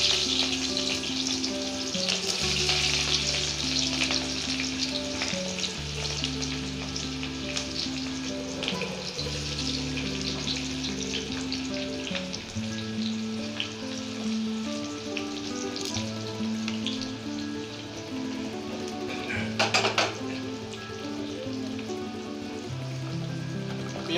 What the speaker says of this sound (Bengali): ওই তেলে আমরা সাদা পেঁয়াজগুলো ছেড়ে দিলাম